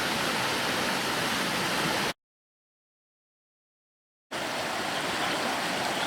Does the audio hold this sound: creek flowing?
yes